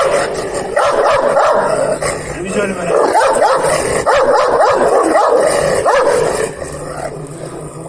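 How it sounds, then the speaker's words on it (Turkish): A month-and-a-half-old Kangal puppy barks and growls loudly in repeated bursts up close, while someone talks over it. "Abimiz hırlatma istiyor ama sıkıntı yok hırlatırız yani."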